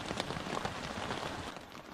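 Rain falling onto a tarp shelter in an Alaskan rainforest: a soft, dense, steady patter of drops with no other sounds, heard close but quiet.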